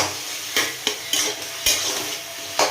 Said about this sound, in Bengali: দিয়ে এবারে স্বাদ মতো নুন, হলুদ, আর আমি আগে এটাকে নাড়াচাড়া করব।